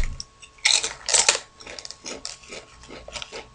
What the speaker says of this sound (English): You can't just eat one Dorito.